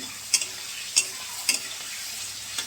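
Spice masala frying in a pan for tilapia fish curry, a steady low sizzle broken by three crisp stirring scrapes at an even pace and a fainter fourth.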